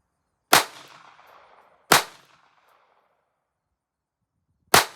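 Three sharp, loud reports from a Kel-Tec P17 .22LR pistol at a range, each with a short decaying tail. The second follows about 1.4 seconds after the first, and the third comes after a long silent gap.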